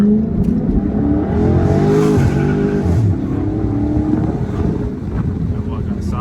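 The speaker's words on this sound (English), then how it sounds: "this thing sounds crazy straight pipe" Straight-piped Scat Pack car engine accelerating hard in second gear, a loud, raspy roar rising in pitch with heavy wind buffeting, heard from inside the cabin with voices in the background.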